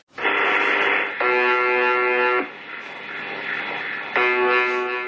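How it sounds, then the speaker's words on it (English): UVB-76, the Russian shortwave station known as the Buzzer, sends a harsh, droning buzz over a constant hiss of radio static. The buzz sounds in loud, steady blocks separated by short gaps, with no voices. "The UVB 76, also known as the buzzer."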